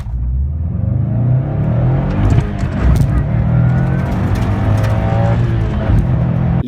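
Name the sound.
turbocharged rally car engine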